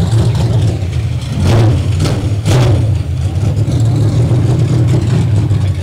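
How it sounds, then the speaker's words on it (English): Loud roaring IMCA Modified race car engines at a dirt speedway, a steady heavy drone with a couple of revving surges, close by and continuous. "Noisy race cars."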